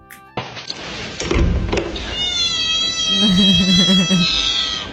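A hungry house cat meows and grumbles close by, starting with a thump and then a drawn-out, wavering complaint that grows louder and more insistent toward the end.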